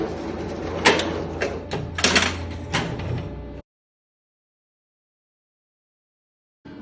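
An embroidery machine clatters with mechanical clicks and a few sharp trimming snaps for about three and a half seconds, then falls silent before a faint restart near the end.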